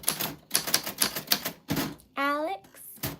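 Crisp manual typewriter keys clatter in quick uneven strokes up close, followed by a short voiced sound near the end.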